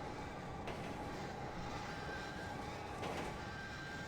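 Steady broadband rumble of a train riding on rails, constant and fairly loud throughout, with a couple of brief clanks or jolts from the carriage.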